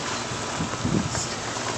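Hail falling during an Arizona monsoon storm in Phoenix, a dense, steady hiss and patter across the whole moment with a brief louder swell, no voices.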